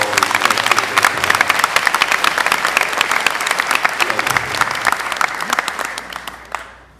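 Applause at an evening Unity for Israel dessert reception honoring county sheriffs: a large indoor crowd claps steadily for about seven seconds, dense and loud, with a few scattered voices mixed in before it tapers off at the end.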